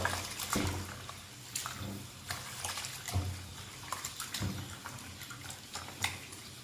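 Black glutinous rice being washed in water, quiet sloshing and swishing with scattered grainy rattles and light clinks of a bowl, close and faint, no talking.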